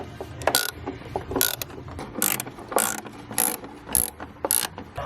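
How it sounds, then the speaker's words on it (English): A ratchet wrench tightens nuts onto a bolt through a drilled hole in a brake pedal during a car's manual transmission swap, giving bursts of rapid metallic clicking in several short runs, close and fairly loud, with no talk. "I'm gonna slip this through the hole that I drilled and then put the nuts on."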